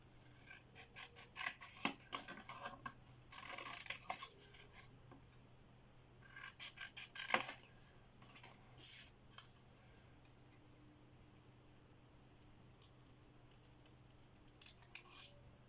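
Scissors snipping paper while making autumn labels, a series of quick close crisp cuts in short bursts separated by quiet pauses, with a few faint scattered snips later on.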